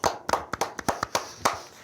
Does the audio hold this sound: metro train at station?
no